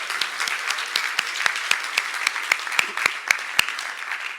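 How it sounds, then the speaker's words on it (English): Conference audience applauding at Droidcon Italy 2023, a sustained wash of many hands clapping with sharp individual claps standing out, steady and fairly loud. "Yes, round of applause."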